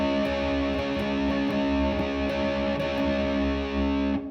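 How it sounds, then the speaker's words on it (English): Distorted electric guitar plays power chords on three strings in a rock tune, with steady rhythmic strums ringing out loud and alone before the sound cuts off. "This is a rock tune, so it's just power chords following a country progression."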